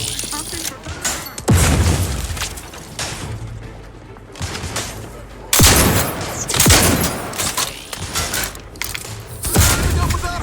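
A grenade blast and bursts of rapid gunfire in the video game The Outer Worlds 2 crack and boom loudly in repeated volleys, with voices calling out in the fight.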